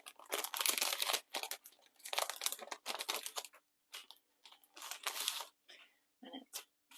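Sheets of paper stickers handled up close, crinkling and rustling in irregular bursts with short quiet gaps between them, fairly soft and without talk.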